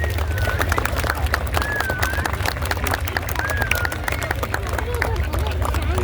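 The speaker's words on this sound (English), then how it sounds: "Big round of applause to our reenactors," Outdoor applause for reenactors at a World War II weekend event: steady, dense clapping from a gathered crowd with background chatter, continuing evenly throughout.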